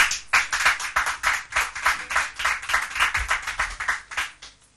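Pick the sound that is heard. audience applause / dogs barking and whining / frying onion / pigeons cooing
audience applause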